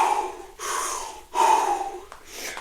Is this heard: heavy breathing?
yes